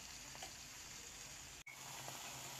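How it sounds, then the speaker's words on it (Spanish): Vegetables for a sofrito fry slowly in a pan, giving a steady, soft, continuous sizzle at low level with a brief dropout partway through. "vamos a removerlo y a dejar que también se vaya sofritando lentamente unos 3 o 4 minutos"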